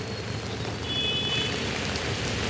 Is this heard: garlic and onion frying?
no